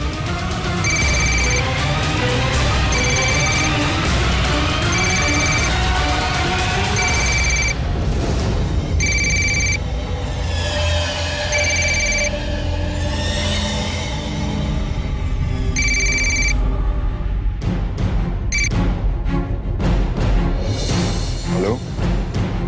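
A telephone rings in repeated electronic bursts over loud, dramatic background music, the rings spaced evenly and fairly prominent.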